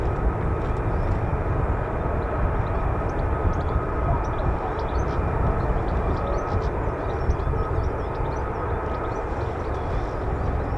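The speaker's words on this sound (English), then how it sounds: "I think I can hear a mix of aircraft. There are F-15s spooling." F-15 fighter jet engines spool on the flight line at RAF Lakenheath, a continuous loud, steady roar and whine that fills the air without a break.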